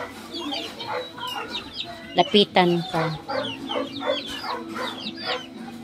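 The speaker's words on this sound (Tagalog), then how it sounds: "Buti pa itong mga manok, maaliw ka." Chickens cluck and squawk close by in a busy, overlapping chorus, with a brief spoken phrase mixed in among the calls.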